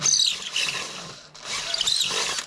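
A power drill on slow speed reams out a hole with its bit, giving a sustained high grinding whine that dips briefly midway and then resumes, loud and close.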